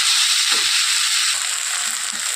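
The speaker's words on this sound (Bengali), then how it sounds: "এর মধ্যে দিয়ে দিচ্ছি চারটে কাঁচা লঙ্কা দু মিনিট কষিয়ে দেবো" Close, continuous hissing sizzle of green chillies sautéing with pointed gourd (kundru) in hot oil, holding steady with faint stirring scrapes.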